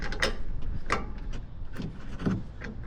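A socket wrench ratchets in short bursts of mechanical clicks, tightening a bolt during a BDS 3-inch lift kit install on a 2024 Ford F250 or F350, quiet and close with no talk.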